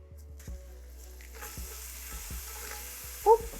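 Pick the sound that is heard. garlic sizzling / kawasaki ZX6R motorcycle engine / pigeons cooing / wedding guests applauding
garlic sizzling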